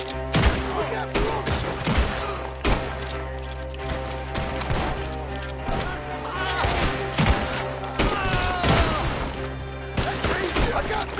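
Intense gunfire in a chaotic fight, rapid overlapping shots and bursts of fire continuing throughout, loud and close, mixed with shouting voices.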